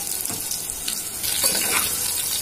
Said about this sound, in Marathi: तर कांदा लाल होईपर्यंत परतून घेऊया याला